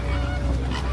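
Greater flamingos calling in a loud honking, goose-like chorus at a zoo safari park lake, continuous and close with overlapping nasal calls.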